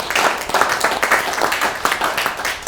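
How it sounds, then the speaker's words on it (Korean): Applause at a People's Party supreme council meeting in Gangwon, a brisk, dense burst of many hands clapping, loud and close, holding steady throughout. "박수로 환영합니다"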